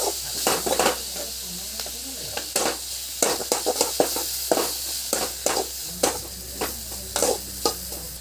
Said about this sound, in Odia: ଦେଖନ୍ତୁ ପିଆଜ ଗୁଡ଼ିକ ଖୁବ୍ ସୁନ୍ଦର ଭାବେ ଭାଜି ହୋଇଗଲାଣି